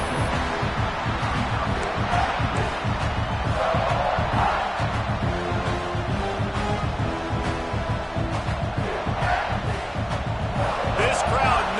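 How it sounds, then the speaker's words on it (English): A packed stadium crowd at a college football game roars loudly and continuously, a dense wall of cheering and shouting that stays full-throated throughout, with no distinct talk standing out. "This crowd, full throat, splitting the eardrums and letting them know it's going to be a long day."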